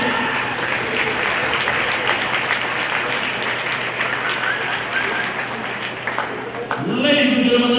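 An audience applauds a graduating senior at a Vandegrift vs. Hutto event, a sustained roar of clapping and crowd noise that swells toward the end, with a voice cutting in briefly near the close.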